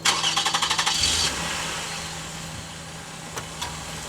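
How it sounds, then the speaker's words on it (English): A vehicle engine cranks with a quick run of rhythmic starter pulses, then settles into a steady idle hum, close and fairly loud, with a couple of small clicks later. "turn the vehicle on"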